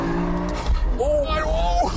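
A BMW M5 E60 oversteers out of a corner on a race track, engine droning and a rising tyre squeal sliding through, heard from inside the car with someone talking over it.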